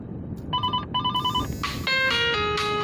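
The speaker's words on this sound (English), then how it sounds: "this is a phone call here" A phone rings with an incoming call, two short electronic ring bursts followed by a rising multi-tone ringtone melody, loud and clear with no talking.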